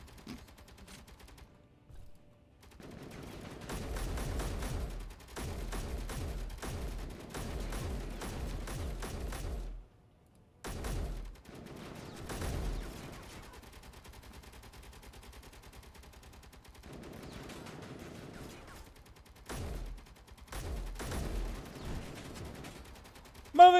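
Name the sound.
gunfire in a firefight, from video game Space Engineers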